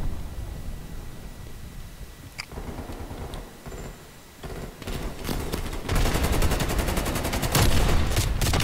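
Gunfire in the video game Call of Duty Cold War, scattered shots at first, then dense rapid automatic bursts growing louder and almost continuous toward the end.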